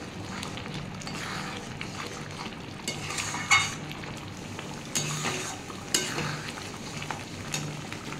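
Oats khichuri with ghee and garam masala is stirred in a pan, giving a soft steady sizzle with intermittent spoon scrapes and a few metallic clinks against the pan, with no voices.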